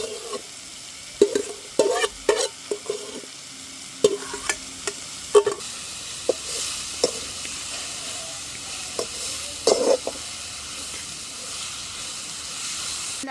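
Food sautés in hot oil in a pan for a chicken rice dish, with a steady sizzle and hiss beneath repeated scraping clacks of a spoon. The stirring comes in short bursts, and no one speaks.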